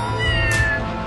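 A cartoon cat meows in the video game Scribblenauts Unmasked, a single drawn-out, rising-then-falling meow over steady game background music, fairly clear but moderate in level.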